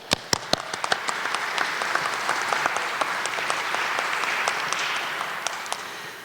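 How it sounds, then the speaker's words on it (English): Applause at a university awards ceremony, opening with a few sharp, close individual claps that quickly swell into a broad, steady round of crowd clapping that carries on to the end. "So big round of applause to you."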